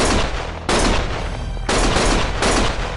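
Loud bursts of rapid gunfire in the video game Lost Judgment, three dense volleys that start abruptly and run nearly back to back, close and harsh with no talking.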